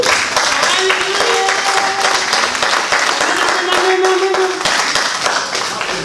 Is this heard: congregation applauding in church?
yes